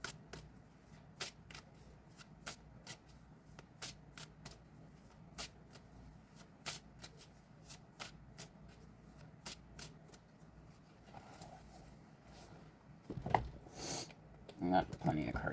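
Tarot cards are shuffled and laid down in quick, crisp riffles and flicks, a steady run of sharp snaps up close, with someone speaking softly at times.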